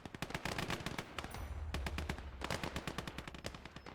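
Rapid gunfire from rifles and machine guns in the Gates of Hell World War II strategy game, dense sharp bursts cracking over a low rumble, loud and continuous.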